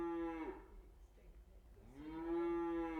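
Cattle in the New Forest moo loudly and close by, two long drawn-out lowing calls with a quieter gap of rustling between them, no talking over them.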